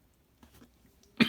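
A person coughs once, a sharp close burst near the end after a stretch of faint breathy throat noise.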